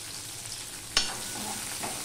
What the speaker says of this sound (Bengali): মাছ ভাজার তেলে আমি এবারে পেঁয়াজ দিয়ে দেব